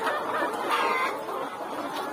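Chickens cluck continuously inside a poultry house holding about 3000 birds, a dense, steady chatter of many hens with no talk.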